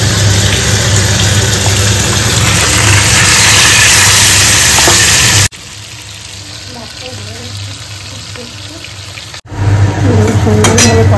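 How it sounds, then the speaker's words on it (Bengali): Fish frying in oil in a wok, a loud continuous sizzle that fills the first half, then drops to a quieter crackle with scattered clinks before the loud frying noise returns near the end. "কড়াইয়ের মধ্যে রান্না করবো, এটা তেলের কড়াই তো, একটু মাছটা ভেজে নেব।"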